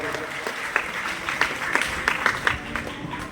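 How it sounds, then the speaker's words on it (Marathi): Audience applauding at a prize distribution ceremony, a crowd clapping steadily with several sharper claps standing out, moderately loud and sustained, with faint voices underneath. "आपण दीपस्तंभासाठी एकदा जोरदार टाळ्या वाजवल्या पाहिजे"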